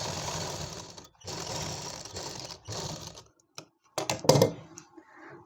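An electric sewing machine stitching Afghani palazzo fabric: three steady whirring runs separated by short stops, followed by scattered clicks and a brief, louder mechanical clatter, all close and fairly quiet.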